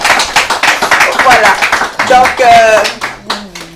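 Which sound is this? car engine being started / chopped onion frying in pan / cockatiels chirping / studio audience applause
studio audience applause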